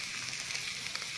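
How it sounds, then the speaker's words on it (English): A soft, crackling sizzle of an egg frying in a pan, steady and fairly quiet, with faint pops scattered through the short stretch. "Hot sizzling egg"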